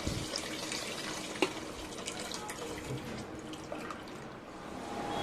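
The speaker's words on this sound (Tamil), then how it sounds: "ரசத்துக்கு தேவையான அளவுக்கு தண்ணி சேர்த்துக்கலாம்." Water is poured into mutton rasam cooking in a pot, a soft continuous pouring and splashing heard close up at low volume with slight drips and kitchen background.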